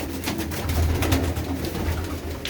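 Makhiali pigeons with white eyes coo in steady, low, throaty rolls, close and continuous for the whole stretch, with no talking.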